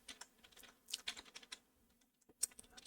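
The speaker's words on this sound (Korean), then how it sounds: "타자를 잘 못 쳐요." Someone types quickly on a computer keyboard, producing a close, irregular run of clattering keystrokes with short pauses and a few sharper key hits.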